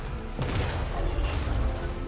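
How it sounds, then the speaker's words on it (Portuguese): A landship tank in Total War: Warhammer 3 fires its cannon in a battle: a loud, booming blast over constant game noise, with a second burst about a second later. "Eu dei um tiro de canhão nas costas do maldito Carnossauro."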